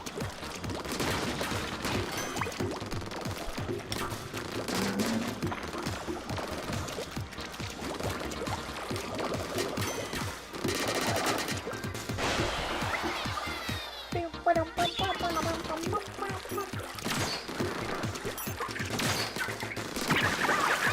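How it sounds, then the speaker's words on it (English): Rapid, continuous shooting in the video game Splatoon 2, heard as dense bursts of splattering impacts, crashes and liquid-like sprays that keep up nearly without pause, over layered game effects and occasional voice. "This is like constantly shooting at the fastest speed"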